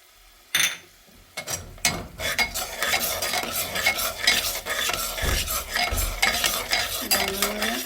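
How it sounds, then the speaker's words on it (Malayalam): Crushed ginger and garlic are stirred into onions frying in a pan for keema curry: a sharp drop, then steady scraping and stirring over a close, continuous sizzle, with no talking. "നമുക്ക് ഈ ഇഞ്ചിയും വെളുത്തുള്ളിയും ചതച്ച് വെച്ചതിലേക്ക് ഇട്ട് കൊടുക്കാം."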